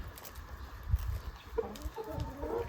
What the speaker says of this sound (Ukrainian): Знімаємо курчат джерзійського гіганта моїх молодих.